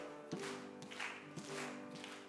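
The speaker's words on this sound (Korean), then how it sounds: "우리 힘차게 박수하시면서 빠르게 찬송하겠습니다." Church congregation clapping along to a fast Korean hymn during a worship service, steady rhythmic claps under singing voices and sustained tones.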